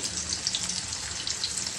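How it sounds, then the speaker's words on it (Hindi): Basmati rice being washed in clean water under a running tap, a steady hissing gush of water with light sloshing and splashing, close and continuous, with no voices. "दो कटोरी बासमती चावल लिए मैंने और इनको दो तीन बार साफ पानी से धो लेंगे"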